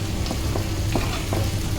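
Whole spices such as cinnamon, pepper and cardamom sizzling and crackling in hot coconut oil for mutton biryani, a dense close frying hiss with small pops and stirring scrapes.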